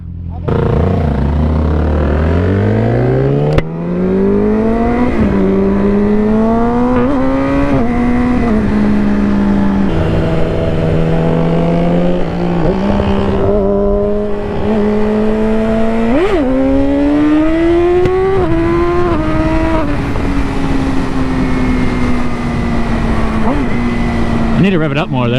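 A Yamaha R6 motorcycle engine revs and accelerates loudly and close, its pitch climbing and dipping through repeated throttle surges over about 25 seconds, with a voice speaking over it at times.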